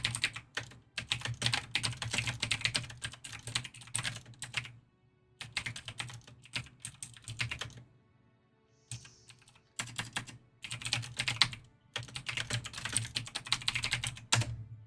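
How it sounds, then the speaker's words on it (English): Rapid clicking keystrokes on a computer keyboard come in several bursts of typing, separated by short quiet pauses, close and fairly soft. "Or you can probably hear me typing."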